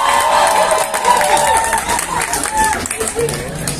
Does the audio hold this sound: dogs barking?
no